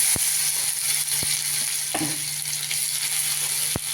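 Chili sizzling in hot oil with asafoetida, curry leaves and garlic, a steady close hiss and crackle with a few sharp pops and a soft stir of the pan, no voices.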